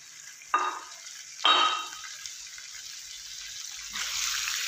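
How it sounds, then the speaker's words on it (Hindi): Roughly half a kilo of washed chicken pieces going into hot oil in a home kitchen for a chilli chicken masala, giving a steady sizzle with two louder bursts as pieces hit the pan. "इसी ऑयल में ऐड करूँगी चिकन को अच्छे से धो लिया है, तकरीबन आधा किलो चिकन है।"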